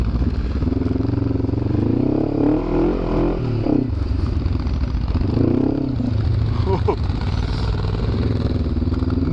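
A motorcycle on a trail-riding trip rolls along with a steady engine drone, rising and falling slightly with throttle, mixed with wind rush and rattling clatter, loud and close throughout.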